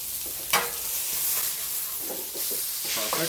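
A steak sizzles loudly on a hot griddle, with a steady frying hiss and a few scraping, sputtering bursts as the meat is flipped, close up and without talk.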